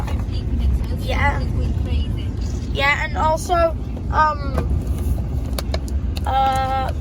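A steady low rumble fills the interior of a moving car, with a person talking over it throughout and a brief jingle near the end.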